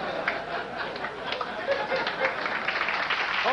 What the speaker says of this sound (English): Applause already.